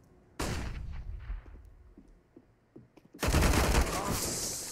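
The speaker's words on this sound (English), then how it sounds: "Frozen will get 2 of the AK-47, and Voxic chimes in as well" Rapid bursts of rifle gunfire from a Counter-Strike esports match, including AK-47 shots, crackle loudly in two clusters, with a louder sustained volley near the end.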